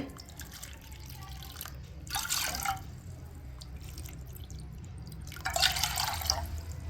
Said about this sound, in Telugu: ఒక కప్పు తెలకపిండికి మూడు కప్పులు నీళ్ళు అయితే దాకలో పోసుకోవాలంట